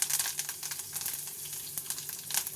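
Mustard seeds, urad dal and a dried chili sizzle and crackle steadily in hot oil, with scattered pops and a faint low hum behind them.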